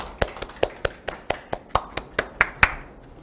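About a dozen sharp, evenly spaced hand claps ring out in a quiet room as an audience welcomes a professor to a Saturday science lecture, each clap crisp and distinct, with no speech.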